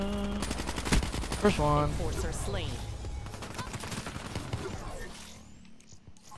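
An XR2 assault rifle fires rapid bursts in Black Ops, clattering in quick, dense volleys at the start and then fading into scattered shots, while a player speaks over the gunfire.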